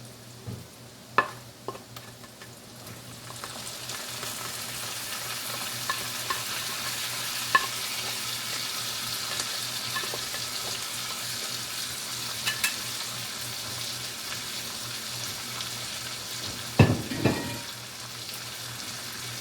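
Corn with its juice and onion frying in bacon grease in a pan, a steady close sizzle with occasional stirring scrapes and a louder burst near the end, no talking.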